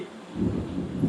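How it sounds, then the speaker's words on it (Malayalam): Low rumbling thunder rolls through steady heavy rain, a continuous dense roar filling the whole short stretch with no voices. "ഭയങ്കര ഇടിയും മഴയാ."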